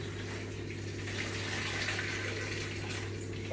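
Hot water poured from a cooking pot into a sink or drain, a steady close gush and splash holding for several seconds with a constant low hum underneath.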